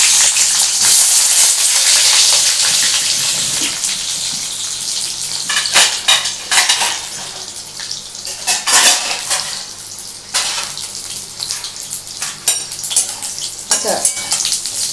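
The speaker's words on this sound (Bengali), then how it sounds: "এই কটা বেগুন আমি ভেজে নেব।" Eggplant pieces fry in a pan for a Bengali fish curry, a loud, continuous close sizzle broken by repeated clatters of a utensil against the pan.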